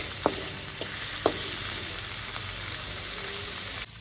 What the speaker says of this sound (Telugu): మీడియం ఫ్లేమ్లో పెట్టుకొని బాగా ఫ్రై చేసుకోవాలి టమాటాలు కూడా